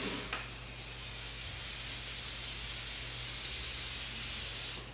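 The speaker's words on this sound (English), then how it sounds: "So I'm gonna just set my face with this Morphe Continuous Setting Spray" Morphe Continuous Setting Spray, peach scent, misted onto a face in one long continuous hiss lasting several seconds, close and steady, then cutting off.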